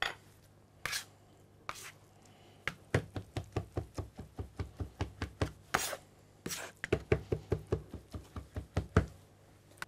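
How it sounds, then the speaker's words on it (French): Knife finely chopping drained eggplant flesh on a board for eggplant caviar, a dense run of quick, crisp close-up chops, a few early strokes spaced out before steady rapid bursts. "Je viens ensuite récupérer cette chair que je vais hacher finement"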